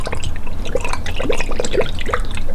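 Coolant is poured into the cooling system of a Subaru BRZ during a turbo kit install, a loud close gurgling trickle with small drips and glugs as the liquid fills.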